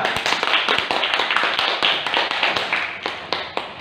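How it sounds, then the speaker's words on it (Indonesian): Students in a classroom clap for a group, a dense run of close, sharp handclaps lasting several seconds with no talk over them. "tepuk tangan untuk kelompok 2"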